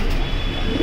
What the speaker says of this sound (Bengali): আর একটা গ্রিবাস কবুতর জানি কোত্থেকে আসছে, এই যে ভিতরে বসে আছে